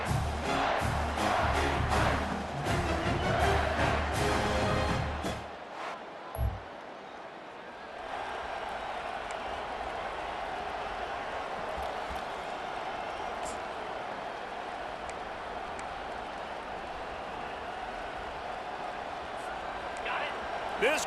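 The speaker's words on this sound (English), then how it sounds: "This crowd bringing the energy and noise early" A loud, roaring stadium crowd fills the air in the game EA Sports College Football 25; a commentator's voice is heard over the din, which drops slightly then holds as a steady roar.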